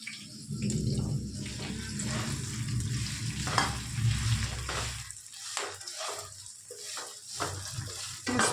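Onion leaves sabji roasts in a pan, a close crackling sizzle with scraping and shuffling as a spoon stirs it around, the frying rising and falling in uneven bursts.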